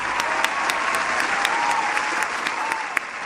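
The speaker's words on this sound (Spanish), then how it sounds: "Fuerte el aplauso," Steady applause from a crowd, dense clapping that holds at an even level throughout with a few sharper claps standing out.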